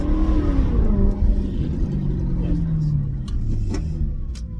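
A motorbike revs up nearby, its engine pitch climbing in a few rising sweeps over the steady low rumble of a car driving slowly on the road.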